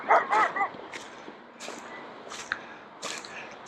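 A dog on a hilltop farm gives a few short, sharp barks at the start, then fainter yips and whimpers come and go over a quiet outdoor background.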